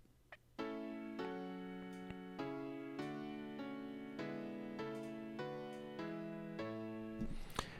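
A synthesized keyboard plays a slow four-part Bach chorale as MIDI playback, block chords changing steadily one after another, clean and close with no voices.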